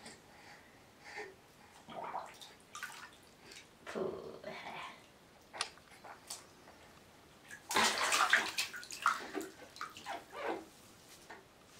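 Water splashes and runs in bursts while a young child is bathed, intermittent sloshing and pouring with quiet gaps between, fairly close.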